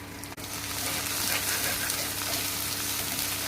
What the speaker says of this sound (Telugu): అల్లం వెల్లుల్లి పేస్ట్ అంతా ఫ్రై కావాలి